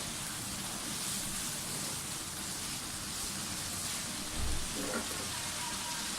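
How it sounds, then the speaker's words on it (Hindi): Kashmiri mutton keema fries in a pan with a loud, dense, continuous sizzle, close and steady throughout, with a brief low thump near the end. "कीमा जो है वो हमारा बहुत अच्छी तरह से भून गया है, कश्मीरी कीमा।"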